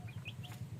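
A Rhode Island Red rooster clucks softly nearby in a quick run of short, rhythmic notes with faint chirps, all within under a second.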